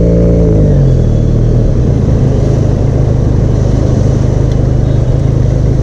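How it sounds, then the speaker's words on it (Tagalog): A Benelli Leoncino 500 motorcycle exhaust while riding in traffic, a loud, steady low-pitched engine drone with a brief pitch drop at the start and no speech. "So this is what the exhaust sounds like."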